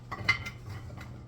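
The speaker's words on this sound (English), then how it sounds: "take my potatoes, put them in my dish" Sweet potatoes placed into a buttered Pyrex dish, giving a few soft, quiet clinks and knocks against the glass within about a second.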